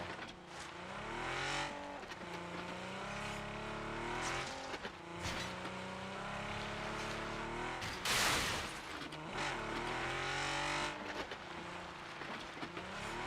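A vehicle drives in the PUBG video game. An engine runs steadily and close by, with revving and shifting pitch throughout, and a brief harsh burst of noise cuts in partway through.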